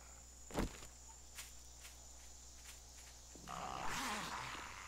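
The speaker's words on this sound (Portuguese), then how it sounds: "A hora que começa a cantar o grilo, gente." Crickets chirp in the daytime countryside of the survival game 7 Days to Die, a soft steady high trill heard alone, with a thud early on and a rising hiss later.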